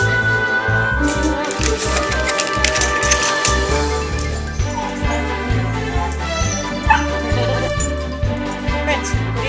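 Cavalier dogs bark during an indoor sleepover, loud and repeated in uneven bursts. Other busy household noise sits underneath, and a person's voice comes in now and then.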